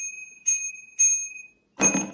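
Small bicycle bell supplied with a 2023 Polygon Siskiu T7 mountain bike, rung three times in quick succession, each a bright clear ding, close and alone.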